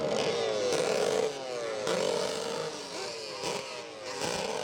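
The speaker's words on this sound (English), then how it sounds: "Jet revs rise as we get ready for the first moto of the year." Jetcross racing watercraft engines revving at the start line of a pro tour round on the water at La Seyne-sur-Mer, France, with rising and falling whines that repeat in surges, fairly loud and close.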